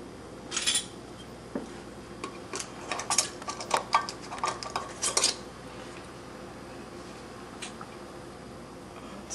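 Small metallic clinks and taps of a canning jar lid, screw ring and magnetic lid lifter being handled while making blackberry mint jelly, a quick cluster of close, light clicks followed by quiet.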